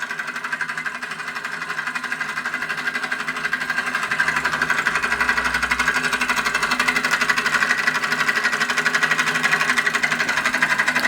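A Burnac Vulcan model steam engine runs steadily with a fast, rhythmic mechanical chatter and a faint knocking tick from a misaligned part, growing slightly louder partway through, with no voices.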